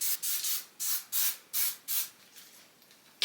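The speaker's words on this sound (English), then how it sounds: "I'm about to spray this oil sheen all over my head." Oil sheen sprayed over natural hair from an aerosol can gives six short, even hissing bursts in quick rhythm, close and fairly soft, followed by a pause and one more burst at the end.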